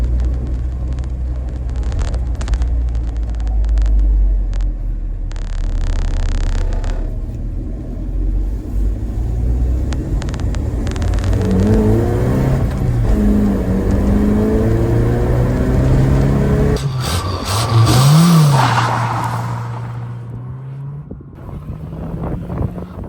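A Toyota car engine revs hard in a burnout, a loud, continuous rumbling roar with rising and falling revs and wind buffeting, building to a sharp surge near the end before easing off.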